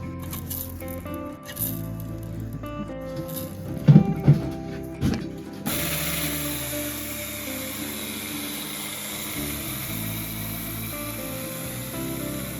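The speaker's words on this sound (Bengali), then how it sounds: "এবার চাল দিয়ে দেবো মিক্সারের মধ্যে দিয়ে অল্প অল্প করে চাল গুঁড়ো করে চালনিতে চেলে নেবো" A kitchen mixer grinder grinds dried rice into flour. A few knocks and clatters from handling come first, then the motor starts a steady, loud whirring drone that holds to the end.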